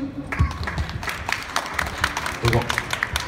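A crowd claps at a talk show during a shopping-mall tenth-anniversary spring live event, with brisk, moderately loud applause running steadily throughout and voices mixed in.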